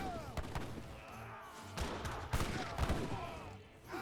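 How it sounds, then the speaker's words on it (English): Heavy booming cannon shots in Age of Empires III fire in quick succession, loud thuds with rumbling tails, mixed with busy battle noise. "Heavy cannons straight forward. Get a massive hit."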